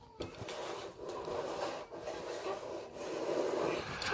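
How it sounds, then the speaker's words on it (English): A box scrapes and rubs against the ground in close, faint, continuous rasping strokes with brief pauses between them. "It was a rubbing box. against the ground."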